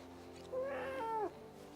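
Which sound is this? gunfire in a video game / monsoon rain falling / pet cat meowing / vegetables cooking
pet cat meowing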